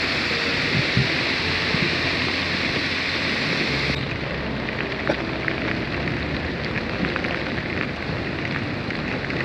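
Heavy rain pours down in Da Lat, Vietnam, with runoff rushing down a sloping street in a dense, steady roar, loud and continuous with no voices.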